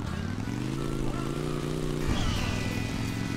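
A motorcycle engine in the video game Hill Climb Racing 2 drones at a steady buzzing pitch, then dips abruptly as if easing off before picking up again, loud and close.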